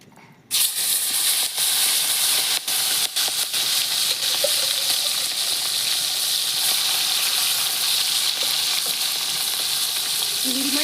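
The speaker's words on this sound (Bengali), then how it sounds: "চিংড়ি মাছগুলোটা ভাজি" Shrimp fry in hot oil with steady, loud sizzling and crackling, with occasional sharp pops throughout.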